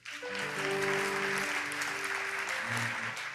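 Church congregation claps together during a Sunday worship service, a steady wash of applause with sustained music tones beneath it, moderately distant and continuous throughout.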